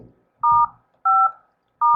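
Telephone keypad tones on a conference phone line being muted, three loud dual-pitch beeps each lasting about a quarter second, spaced unevenly with silence between, no talk.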